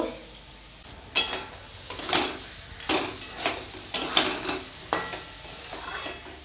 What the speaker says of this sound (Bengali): এটাকে ভালো করে কষিয়ে নিব লবণ দিয়ে দিব